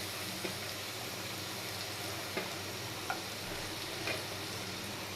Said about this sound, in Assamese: ৰুকি থোৱা নহৰুখিনি দি দিছোঁ